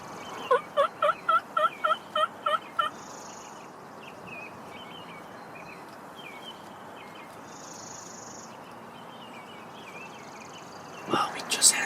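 Wild turkeys gobble near a hunting blind, a quick run of about eight loud, rapid gobbles at the start, then soft outdoor ambience with faint whispering and distant birds before a final burst of gobbling at the end.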